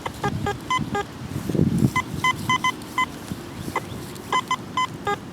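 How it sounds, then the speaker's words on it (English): Metal detector sounding a series of short, evenly pitched electronic beeps in bursts while it sweeps over a dig hole outdoors, with faint ambient rustle and a brief low scrape between beeps. "Let's scan over it again, see if it's still beeping."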